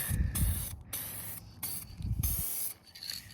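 Several short bursts of aerosol spray paint hiss close by on a mini bike, separated by brief pauses.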